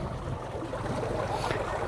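Water rushes steadily through an irrigation channel outlet (moga), a continuous broadband gush heard close up and alone, without a break.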